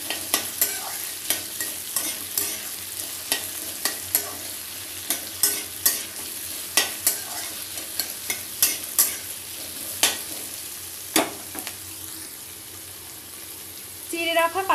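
Vegetables for chilli chicken are stirred in a sizzling pan, a spatula scraping in steady, repeated strokes over a constant loud frying hiss with no talk.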